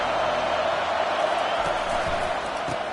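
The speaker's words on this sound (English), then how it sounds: "Listen to the crowd energy here in the early going. This is a tough environment for visitors." A dense, steady roar from a large crowd at a college football game fills the whole stretch, broad and continuous with no distinct cheers standing out.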